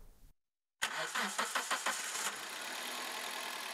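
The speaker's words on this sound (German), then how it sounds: "Starten Sie den Motor." A car engine cranks with a few rhythmic turnover pulses, catches, and settles into a steady idle after a brief silence at the start.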